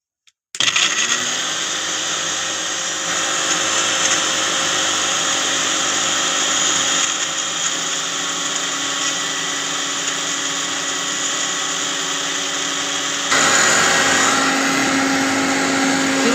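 A mixer grinder runs loudly and steadily for the whole stretch while blending juice with water, its motor whine briefly shifting pitch near the end as the load changes.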